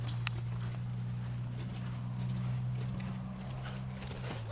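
A horse canters during a riding lesson, its hoofbeats thudding in a steady rhythmic clip-clop over a low, constant hum.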